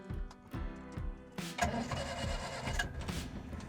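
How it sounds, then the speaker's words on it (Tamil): Hindustan Motors Ambassador petrol engine starting: a few rhythmic cranking strokes from the starter, then the engine catches and settles into a busy, rattling idle up close. "And there engine Rolle's to life."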